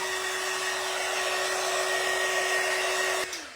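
A heat tool blows continuously over freshly stencilled paint in a coastal sea turtle craft project, a loud steady whirring hiss with a constant whine that cuts off just before the end.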